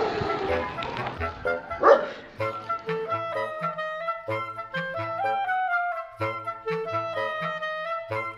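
A dog barks repeatedly in quick, yappy bursts, close and fairly loud, in an uneven rhythm of short, high calls.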